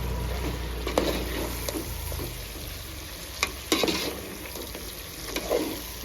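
Country chicken curry with tomatoes sizzles in a pan while being stirred, a steady frying hiss broken by occasional sharp scrapes and clicks of the spoon against the vessel.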